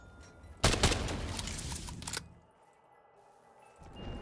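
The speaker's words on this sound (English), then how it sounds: "Shotgun!" Shotgun blasts in Call of Duty Zombies, a loud dense burst of rapid booming shots lasting about a second and a half, then cutting off into quieter game ambience.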